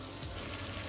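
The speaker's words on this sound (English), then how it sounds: "fry too many potatoes at once. I like some onion also, a little bit on." Potatoes and onion fry steadily in hot oil in a pan, a dense continuous sizzle close up with no talking.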